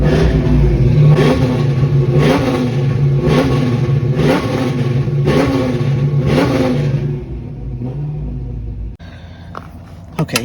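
A Pontiac GTO engine revs hard in a string of about six loud, rhythmic throttle blips over a deep idle rumble, then settles back to a quieter idle with some clatter.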